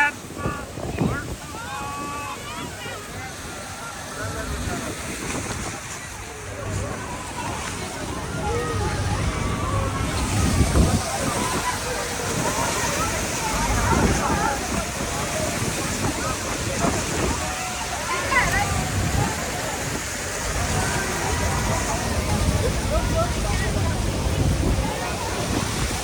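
Horseshoe Fall at Niagara Falls heard from a Horn Blower tour boat: a constant roaring rush of falling water and spray mixed with heavy wind buffeting on the microphone, with people talking faintly underneath throughout.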